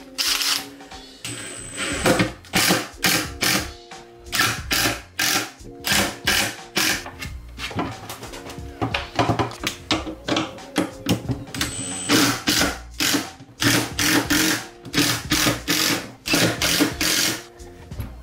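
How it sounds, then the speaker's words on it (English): A Makita power tool runs close by during a custom skateboard grip tape setup, giving off a steady series of loud, rapid mechanical bursts with a whirring motor hum underneath. No one speaks over it. "we've got the good old Makita"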